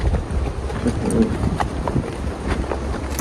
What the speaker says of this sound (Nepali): अनि यस्तो हावाहुरी लाग्छ नि, मतलब हावा पुरै लाग्छ